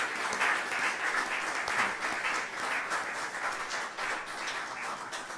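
Steady audience applause at a research conference's tenth anniversary event, many hands clapping in a dense, even wash that holds throughout at moderate distance, no voices over it.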